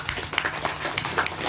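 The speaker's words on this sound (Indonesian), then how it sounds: "Tepuk tangan untuk Gus Dur." Applause for Gus Dur at a talk or seminar, a soft patter of scattered hand claps from an audience, fairly distant and faint.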